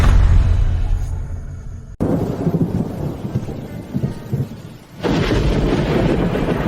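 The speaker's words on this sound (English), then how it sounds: "Mommy, the thunder is scary." Thunder during a storm rolls and rumbles loudly with rain, a sharp crack near two seconds and a fresh heavy surge toward the end.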